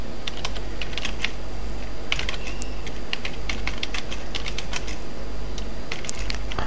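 Steady typing on a computer keyboard while writing text into a web page, a continuous run of clicky keystrokes with no voices.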